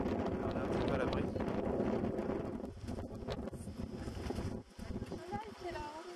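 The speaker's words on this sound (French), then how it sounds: "toujours un bon 80-90 km/h de vent" Strong 80–90 km/h wind at a campsite near Caspe buffets the microphone in a loud, continuous roar that gusts and dips, with voices talking faintly underneath.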